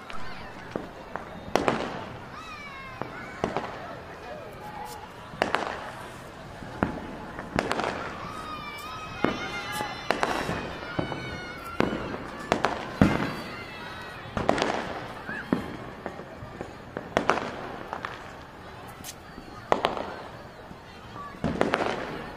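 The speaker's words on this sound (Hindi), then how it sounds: "ये पटाखे फूट रहे हैं जगह जगह" Firecrackers pop and crack repeatedly all around at night in Delhi, some near and loud, others distant, with scattered voices talking in the background throughout.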